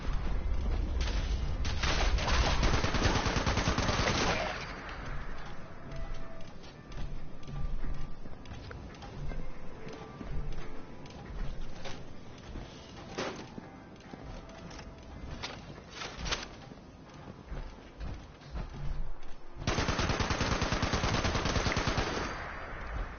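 Bursts of automatic gunfire in the online game Fallout 76, loud rapid volleys at the start and again near the end, with scattered shots and movement noise in between.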